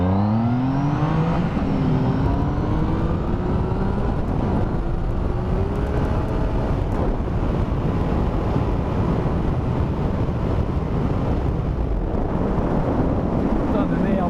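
A 2016 Triumph Speed Triple S motorcycle accelerates hard, its engine note climbing through rising sweeps over heavy, steady wind rush at the microphone, close and loud throughout.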